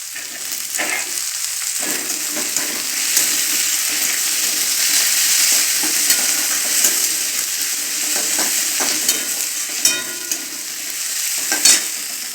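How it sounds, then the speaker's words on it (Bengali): Onions frying in a pan with chopped green chilli and tomatoes for a mixed tarka, a continuous close sizzle with scraping stirring strokes and no talking. "পেঁয়াজটা একটু ভাজা ভাজা হয়ে গেছে, এবারে দিয়ে দেবো লঙ্কা কুচি আর দেবো কেটে রাখা টমেটোগুলো"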